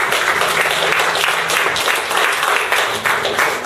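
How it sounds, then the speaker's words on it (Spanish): A church congregation claps loudly and steadily during a Spanish-language evening service, dense sustained applause filling the whole moment. "Dale un fuerte aplauso a Cristo en esta tarde."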